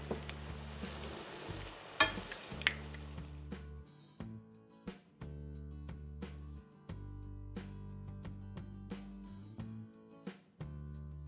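Apple fritters sizzle and crackle steadily in hot frying oil, a close, continuous hiss under soft background tones, with no one talking.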